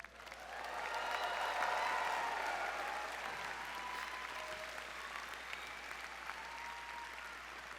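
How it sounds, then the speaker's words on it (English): Doctoral and MFA graduates at a 2022 commencement ceremony cheer and applaud together, a broad sustained wash of clapping and crowd noise that swells early and then holds steady. "let's have you let out a loud cheer for yourselves as a way of getting started with the celebration"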